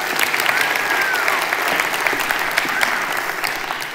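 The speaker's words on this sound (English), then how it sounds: "Give her a round of applause." Steady applause from a large audience at a body-language talk on stage, dense and even for the whole stretch with no speech over it.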